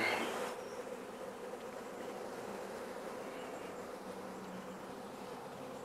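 A honey bee swarm buzzes in a dense, continuous drone, steady and fairly close, with a brief sharper burst at the very start before the hum settles.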